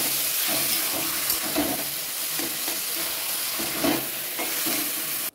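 Taro greens go into a pan already seasoned with turmeric and salt, for a hilsa fish head dish, bringing a continuous close sizzle with scraping stir sounds before cutting off abruptly.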